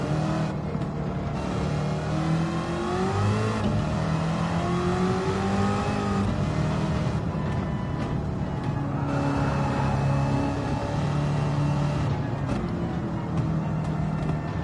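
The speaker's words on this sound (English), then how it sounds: "It's got a weird like whine to it too. That's got to be the supercharger." Engine of the Stingray Racer car in Gran Turismo 7, a continuous supercharged roar with a rising and falling whine as the revs change, loud and steady throughout.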